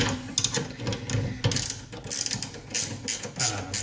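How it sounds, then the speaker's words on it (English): A ratchet wrench tightens the bolts of a Hi-Lift jack mount on the roof rack of a Toyota 4Runner, giving close, quick bursts of metallic clicking in uneven runs. "I'm going to tighten it evenly"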